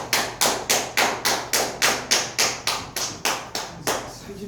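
At a church New Year gathering, a small audience claps in a steady series of about a dozen firm, evenly spaced hand claps, close and fairly loud, with no talking.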